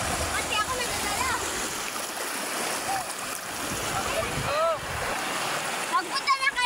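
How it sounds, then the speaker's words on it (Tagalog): A loud, continuous rush of crashing surf from strong waves and splashing water, with voices faintly audible beneath the roar. "Ang lakas ng alon."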